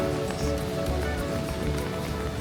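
Rain falls on a gray morning in Rio de Janeiro, a steady, soft hiss of drops on surfaces with faint scattered patters, fairly quiet and even throughout, without voices.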